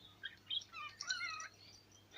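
A cockatiel named Freckles gives a quick run of soft, high chirps and whistles close by in a quiet room, with short pauses between the bursts.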